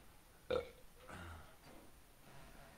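A single short, loud burp, followed by quiet room noise and faint low murmuring.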